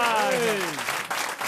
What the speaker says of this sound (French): Et vous entendez les applaudissements